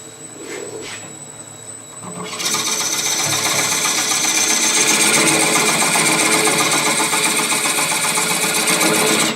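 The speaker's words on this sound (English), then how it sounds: "And then take most of it out with my gouge." Wood bowl being turned on a lathe, with a gouge hogging out the interior: a quieter start, then from about two seconds a loud, steady, continuous rasping cut with a harsh broadband hiss that runs unbroken to the end, no voices.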